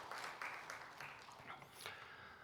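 Church congregation applauding after a choir performance during a Sunday service, a steady wash of many hands clapping at moderate distance, continuous for a couple of seconds with slight swells.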